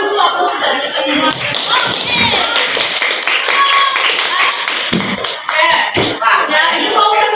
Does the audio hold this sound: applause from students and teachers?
yes